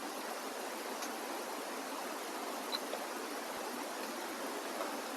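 Oil heating in a pan on a stove for duck curry, giving a steady, soft hiss and fizz of broadband sizzle that keeps going evenly with no speech.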